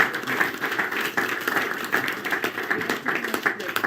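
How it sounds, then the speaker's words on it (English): An audience at an alpine ski race talk show applauds with light, scattered clapping for a few seconds, fairly quiet, with a voice partly over it. "Give a round of applause for Zrinca Ljutic and Alexander Steen-Olsen."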